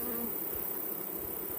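Honey bees buzz steadily and fairly loudly throughout during honey pulling from the hives, a dense continuous insect drone with no voices.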